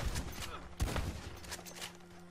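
Shotgun blasts in the online western game Red Dead Online: a couple of sharp, booming shots with a thumping burst near the middle, heard fairly faintly against a low game backdrop.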